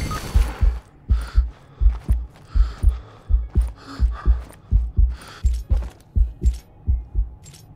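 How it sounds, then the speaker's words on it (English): A Fortnite heartbeat sound effect for a player bleeding out thumps in paired, low, regular beats, about two per second, steady and close throughout. "we put the delay on the heartbeat so you can hear it as you're getting up"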